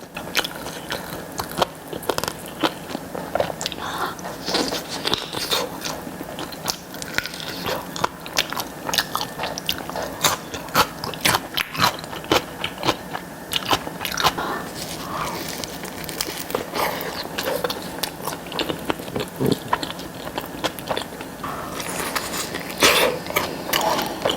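Close, steady chewing and crisp biting of Domino sweet potato pizza, with dense crunchy bites and mouth sounds continuing throughout, no talking.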